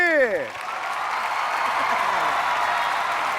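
A crowd applauds a band as it takes the stage at a Thai youth music show; a voice trails off at the start, and then broad, even clapping builds and continues steadily to the end.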